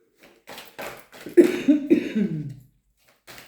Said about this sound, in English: I have no idea why I'm all of a sudden coughing for this pile.